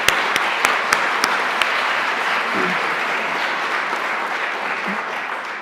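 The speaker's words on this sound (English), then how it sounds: "round of applause" An audience applauds at an evening event, steady clapping of a crowd that carries on through the whole stretch and fades slightly at the end, with a few sharp knocks at the start.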